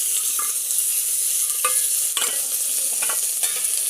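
Onion, garlic and green chillies fry in oil with panch phoron, a loud, continuous sizzle broken by several scraping stirs of a spatula against the pan.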